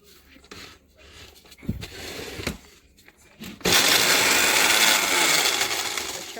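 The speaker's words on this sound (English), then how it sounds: "The shell is gonna soft, and I blend it." An electric blender grinds baked, softened eggshells, starting with a few short pulses and knocks, then running loud and steady at full speed close up for the rest of the clip.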